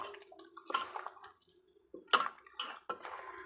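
Meat being marinated by hand, wet squelching and slapping in short bursts as the pieces are pressed and turned, close and fairly soft.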